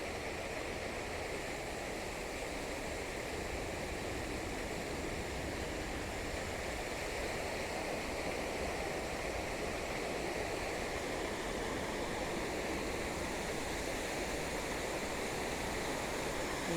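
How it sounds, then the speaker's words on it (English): A water fountain at a tropical bird sanctuary sprays with a steady, even hiss and rush, continuous and fairly faint throughout with no talking. "So we are going to see the water fountain."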